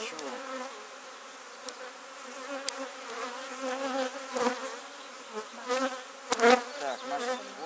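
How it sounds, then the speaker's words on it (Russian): Honeybees buzz steadily on a hive frame with open brood during a split, a dense continuous hum close by and fairly loud throughout, with occasional clicks and handling bumps. "Можно стряхивать с этой рамки пчелу"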